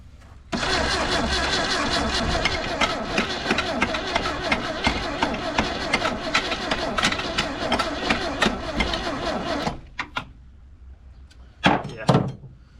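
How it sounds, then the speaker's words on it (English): The starter motor of a Holden VC Commodore cranks the engine in one long, loud, continuous grinding run, then cuts off, followed by a couple of short knocks and clunks near the end. "Starter motor won't disengage."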